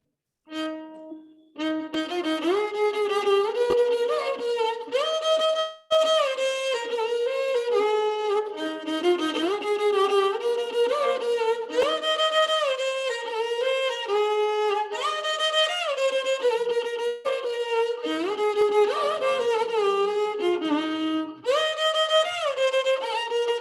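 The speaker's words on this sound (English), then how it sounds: "This is set to the raga called Hamir Kalyani, and it sounds like this." Carnatic composition in raga Hamir Kalyani set to Khanda Chapu tala, played as a continuous melodic instrumental line with sliding, ornamented notes, loud and steady throughout, with no talking.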